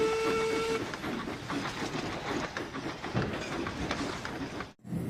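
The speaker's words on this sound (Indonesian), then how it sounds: "Yang ini lokomotif kereta api klasik." Toy classic steam locomotive making a sound effect, a short high tonal whistle at the start, then a chugging, rattling clickety-clack rhythm that runs until it cuts off abruptly near the end.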